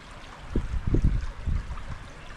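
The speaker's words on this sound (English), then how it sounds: "It's a beautiful culvert over the creek." Creek water flows through a culvert, a soft murmuring stream with a few gurgling splashes rising and falling, fairly quiet, with no talking.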